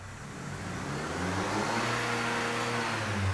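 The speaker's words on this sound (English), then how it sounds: "Now let's see what happens when we go ahead and hit the gas here." Engine of a 2007 Dodge Caliber that runs poorly and won't rev up, droning steadily as the gas is pressed, a sustained close mechanical hum with faint rising tones and no voices.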